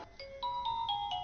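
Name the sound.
mobile phone ringing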